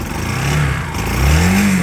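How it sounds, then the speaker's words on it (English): A Triumph Bonneville T120 motorcycle engine runs close by, a rough mid-low throb that rises in revs toward the end, with no talking. "Engine sounds spot on."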